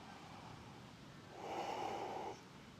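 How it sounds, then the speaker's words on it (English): A single slow, deep breath during a back-pain mobility and flexibility exercise session, a soft airy rush that swells for about a second and then fades, close and quiet. "Taking 3 more breaths"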